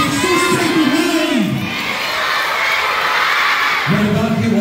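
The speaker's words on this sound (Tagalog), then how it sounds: "Everyone shout, Jesus is alive." A large youth crusade crowd in the Philippines shouts together in loud, sustained unison bursts, with a brief dip before swelling again near the end.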